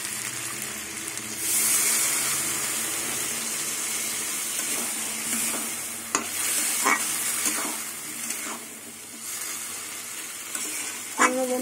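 Prawns fry in a pan for a spiced Bengali prawn dish, a steady close sizzle that swells as a splash of rinse water goes in, then settles into bubbling with occasional spoon clinks.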